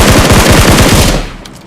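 Loud automatic gunfire in a video game: one rapid, rattling burst of shots lasting over a second, then tailing off abruptly, with no voices.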